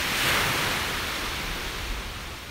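Steady broadband wash of ocean waves on a beach in the morning, a continuous close rush of surf with a slight swell near the start and no voices.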